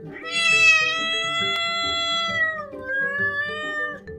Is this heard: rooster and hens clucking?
no